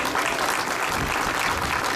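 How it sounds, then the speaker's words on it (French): Crowd at a Moroccan Throne Day celebration in Montreal applauds the Moroccan ambassador, a loud, dense, continuous burst of clapping heard close up. "qui mérite une bonne main d'applaudissements"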